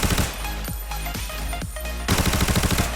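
Rapid bursts of M4A1 rifle fire in the shooting range of the video game Arena Breakout, loud and close, with short gaps between strings of shots and a dense automatic run near the end.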